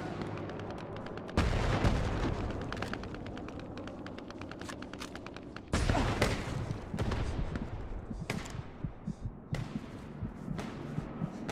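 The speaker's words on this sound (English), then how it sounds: "Grenade, watch out." Muffled blasts and thuds from Hell Let Loose, with sharp bursts near two and six seconds amid continuous distant gunfire and scattered shots, moderately loud.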